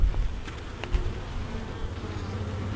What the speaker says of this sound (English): I can look down and see that there's lots of bees all doing their thing.